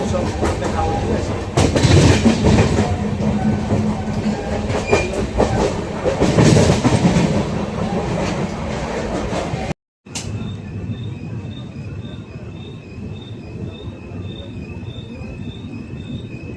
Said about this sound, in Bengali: ট্রেন আমাদের স্লো হয়ে গেছে।